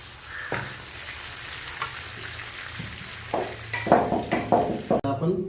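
Red chillies fry in a pan for a garlic and red chilli thecha, giving a steady close sizzle with scattered clinks and scraping stir sounds that grow busier toward the end.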